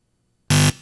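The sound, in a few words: quiz show buzzer ending the round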